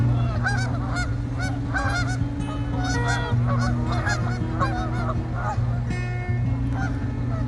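A flock of Canada geese honking continuously and loudly, many overlapping calls at close range forming a dense, busy chorus with no talking.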